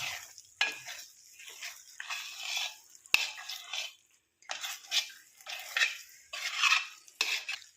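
Thick medicinal lehyam for new mothers is stirred in an uruli pot, the ladle scraping and slapping in steady close bursts with short pauses between strokes, and no voice is heard.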